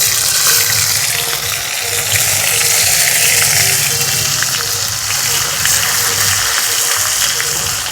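Dried red chillies, a bay leaf and a pinch of asafoetida crackle in hot oil for a tempering, a loud continuous sizzle held close and steady throughout.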